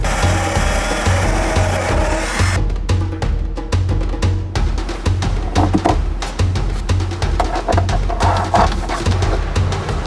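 Drill boring through a wooden partition wall, backed by a sacrificial wood block, during a gas line installation for a cooktop: a steady mechanical whine under loud, dense broadband grinding and rasping chatter that runs continuously throughout.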